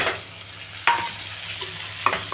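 A dry brinjal curry is stirred in a pan with leftover masala, giving a close steady sizzle broken by a few sharp scraping strokes of a spoon against the pan.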